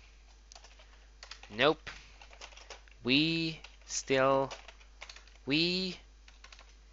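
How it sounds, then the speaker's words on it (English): Clicks of typing on a computer keyboard come in short, sparse bursts, quiet and near, under a man's intermittent speech. "Must have done something to my keyboard because I really can't type."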